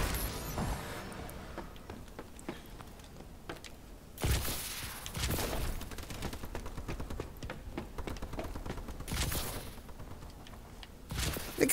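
Shotgun fire in the video game Advanced Warfare on Xbox One: loud blasts break out around the four-, five- and nine-second marks, while scattered shots, clatter and footsteps fill the spaces between.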